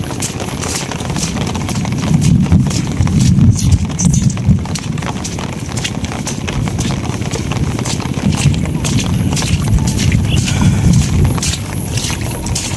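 A cow is led along in heavy monsoon rain, its hooves clopping in a loose rhythm close by over a constant hiss of rain.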